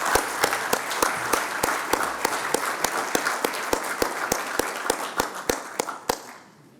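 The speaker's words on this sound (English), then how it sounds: "Let's give him a round of applause as he comes up" Applause at a broadcasters hall of fame induction ceremony, a steady patter of clapping punctuated by sharp, regular claps close to the microphone, fading out at the end.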